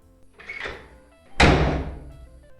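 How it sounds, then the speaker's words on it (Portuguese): A heavy steel door bangs open with a loud, booming slam that rings out and slowly decays, preceded by a softer thud. "A porta de aço se abriu com um estrondo."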